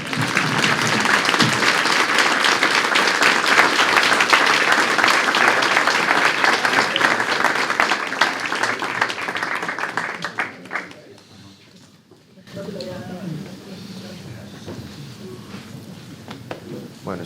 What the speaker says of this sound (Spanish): Podéis aplaudir de nuevo.